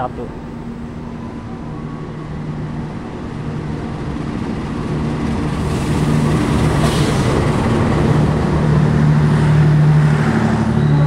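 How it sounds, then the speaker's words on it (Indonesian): The Argo Sindoro passenger train, hauled by CC 206 13 88 locomotive from Cipinang depot, rolls into track 3 at Jatinegara station, its rumble and wheel noise swelling steadily louder against station background noise. "Ini dia kereta api Argo Sindoro tiba di jalur 3 stasiun Jatinegara."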